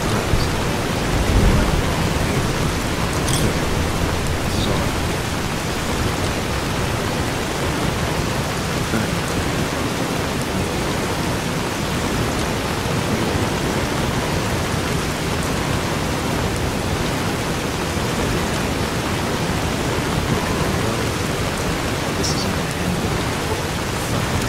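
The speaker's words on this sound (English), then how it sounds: "So it's raining bad. It's raining really, really bad." Heavy rain falls in a Fallout New Vegas game scene as a loud, unbroken hiss of downpour with a few faint thunder-like rumbles underneath, holding steady throughout.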